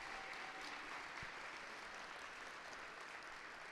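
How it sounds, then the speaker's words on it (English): Steady applause from a crowd fills the whole stretch, a dense even patter of many hands clapping without pause. "Let's give all of them a big round of applause."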